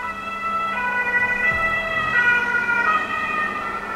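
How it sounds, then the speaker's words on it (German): An ambulance siren passes outside an open window early in the morning, its steady wailing tones sounding loud and near, with a vehicle rumbling past beneath it and no talking. "Jetzt kommt ein Krankenwagen."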